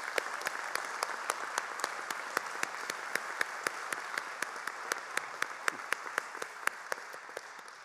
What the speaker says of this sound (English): let's give a hand to the special educators.